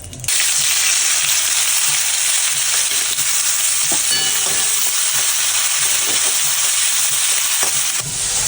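Sliced onions frying in hot oil with whole cumin seeds and two bay leaves, a loud, steady sizzle holding throughout with occasional crackles and spatters close by, no voices.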